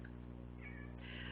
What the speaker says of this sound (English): he keeps pawing at stuff and meowing